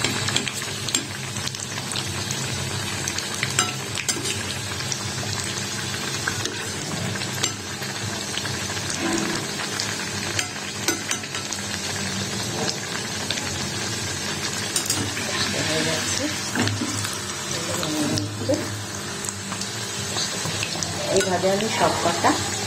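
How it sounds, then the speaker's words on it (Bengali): Moglai paratha frying in a little oil in a pan, a dense continuous sizzle with scattered crackles, steady and close throughout. "একটু তেলে ভেজে নিচ্ছি একটু মেলে করে চেপে চেপে ভেজে নিতে হবে"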